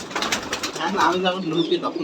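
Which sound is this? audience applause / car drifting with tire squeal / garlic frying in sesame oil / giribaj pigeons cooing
giribaj pigeons cooing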